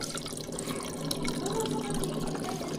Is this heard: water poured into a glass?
yes